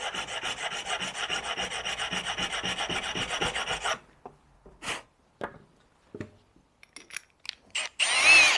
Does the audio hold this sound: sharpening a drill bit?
yes